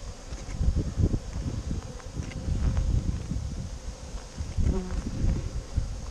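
Honeybees buzz steadily at an open hive while it is being treated against varroa mites, a dense low drone with some soft handling noise and rustle close by.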